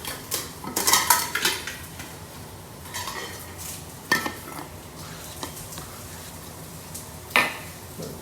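A utensil scrapes and clatters against a pan while roughly chopped onions and ratatouille vegetables are stirred, with soft sizzling underneath and a few sharp clanks spaced through the stretch.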